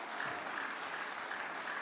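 Audience applause at a Tagalog preaching gathering, a steady wash of many hands clapping together at moderate volume with no break from start to finish.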